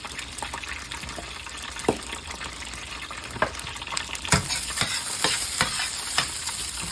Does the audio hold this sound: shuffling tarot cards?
no